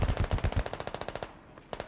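Rapid automatic machine gun fire in the military shooter game Squad, a loud fast burst that thins into quieter steady rounds, then a short pause before firing picks up again.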